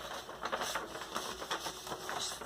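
Printed paper knitting pattern for a striped design rustling and crackling as it is handled, a steady run of soft papery scuffs and crinkles close by with no talking.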